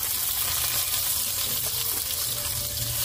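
Onions frying in hot oil for a thin fish curry made with fresh river bele fish: a steady, close, even sizzle with no break, no voices.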